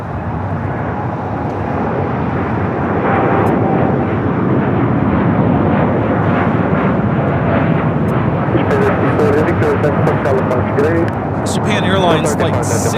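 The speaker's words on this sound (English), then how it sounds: "Japan Airlines Flight 69 taking off to Osaka on the 787-9 Dreamliner." A Japan Airlines Boeing 787-9 Dreamliner bound for Osaka takes off from LAX, its jet engines a loud, steady broadband roar that fills the whole stretch, swelling slightly midway.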